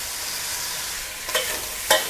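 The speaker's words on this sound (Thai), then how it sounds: "ใช้ไฟแรงเลยนะคะ ทีนี้ผัดให้ปลาหมึกสุก" Steady hiss of squid stir-frying over high heat in a hot pan with sauce, with two sharp scraping clatters of a utensil stirring, no voices.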